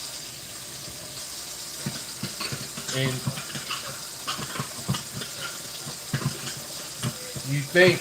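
Tap water runs into a container to fill it, a steady splashing stream with clunks and handling noises, while a person talks briefly over it.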